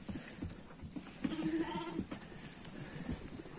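A sheep bleats once in a farm setting, a single drawn-out call in the middle of the clip that stands clearly above a steady background hiss and scattered low rustling.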